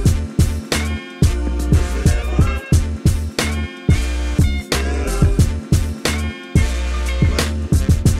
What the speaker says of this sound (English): now what you're hearing is more or less a recreation or some variation of that original bass line